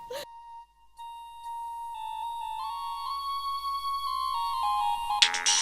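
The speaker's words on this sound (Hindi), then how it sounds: "फोन आ गया शेख जी। रिसीव करो।" A phone ringtone plays a rising electronic melody of steady tones, fairly clear, ending with a brief burst of noise.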